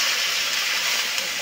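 Water poured into a hot pan during fish curry cooking, a broad steady steaming hiss that holds loud and even throughout, close by.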